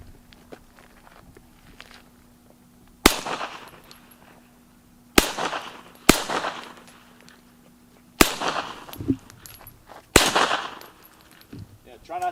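Semi-automatic firearm fired as single shots at steel targets outdoors, with five sharp, loud reports spaced about two to three seconds apart, each trailing off in a short echo, and faint movement in between.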